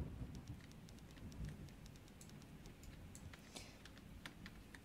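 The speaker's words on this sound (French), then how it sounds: "Ouais, la tempête, ouais." Storm rain in the Roblox video game, a soft steady patter with scattered sharp drop ticks, faint and continuous with no talk.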